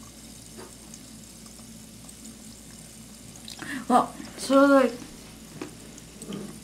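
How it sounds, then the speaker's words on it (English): Tic Tacs dropped into liquid give off a soft, continuous fizzing and crackle of rising bubbles, faint and close, while a person talks briefly over it. "bubbles are like arising from the Tic Tacs"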